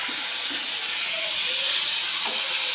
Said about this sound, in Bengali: এই জন্য তেলটা গরম হয়ে গেছে, এই তেলের মধ্যে আলুগুলো দিয়ে দেবো।